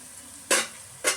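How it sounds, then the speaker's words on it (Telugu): Ginger garlic paste sizzles in a hot pan with two short bursts of frying crackle, as if stirred, over a quiet background. "అల్లం వెల్లుల్లి పేస్ట్ మంచిగా వేగింది."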